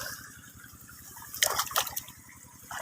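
Water trickles and splashes softly while a bitter gourd plant is watered, a faint gurgling flow with a few brighter bursts midway over a low background hum.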